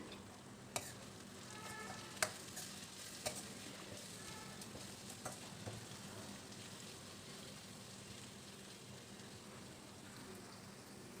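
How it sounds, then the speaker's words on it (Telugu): Coriander and cumin powders fry in a pan with onion for a spicy idli fry, giving a steady close sizzle and crackle with a few sharp stirring knocks. "ఈ మూడు వేసి బాగా వేయించుకోవాలండి"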